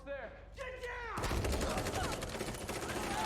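Gunfire in an episode of The Walking Dead erupts suddenly as a dense, sustained burst of rapid shots and crackling reports, loud and continuous after a brief stretch of tonal sound beforehand.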